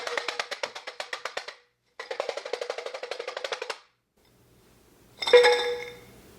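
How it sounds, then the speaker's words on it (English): Garlic cloves rattle hard inside a glass jar in two fast bursts of rapid clinking shakes, followed by a pause and a brief sharp glassy clatter, close up with no talk. "put it in a jar and shake it up, and it's supposed to peel the garlic"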